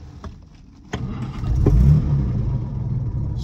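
A sharp click, then the engine of a 1961 Jaguar MKII 2.4 cranks and catches, rising to a brief rev before settling into a steady, rumbling idle close by.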